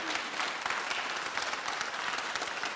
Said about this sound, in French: on peut vraiment l'applaudir